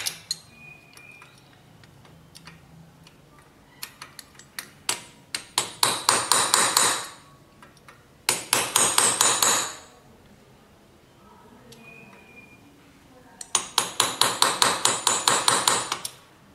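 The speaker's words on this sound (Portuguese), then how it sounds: "eu tô apoiando ela aqui, ó, e batendo pra desamassar" A hammer strikes a flat-tipped punch to straighten a bent fold on a Yamaha XV 250 Virago engine part, in three rapid bursts of sharp metallic taps separated by pauses, close and loud.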